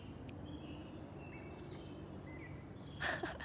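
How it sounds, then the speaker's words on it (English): Birds sing outdoors in a quiet natural setting, with thin, high chirps and short whistled phrases scattered over soft ambient noise, and one brighter, louder call near the end. "Listen to those birds."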